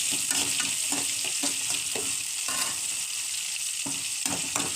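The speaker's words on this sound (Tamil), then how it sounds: "வெங்காயம் பச்சை மிளகா போட்டு நல்லா வணக்கிட்டுக்கலாம்" Onion and green chili sautéing in a pan for poha, a steady close sizzle broken by repeated scraping stirs of a spoon, with no one talking.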